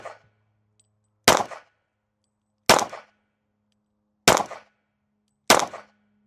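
Four sharp, loud pistol shots from a .40 HK VP40, spaced about a second or more apart, each cracking and then ringing out briefly, with quiet between them.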